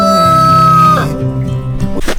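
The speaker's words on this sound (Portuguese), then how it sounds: "aqui estão as nossas galinhas" Chickens and a rooster crow loudly and close by at a backyard coop, a long crow followed by clucking and squawks, alone with no talk.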